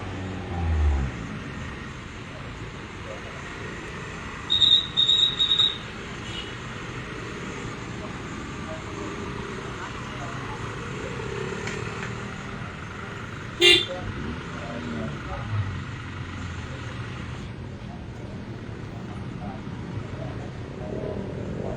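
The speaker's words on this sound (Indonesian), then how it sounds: "Nah, ini masih kendaraan yang melintas dari arah utara ke Kota Palopo" Vehicles crossing a single bridge on an alternative route into Palopo, a distant steady traffic rumble with a short burst of horn toots early on and a brief sharp clack later.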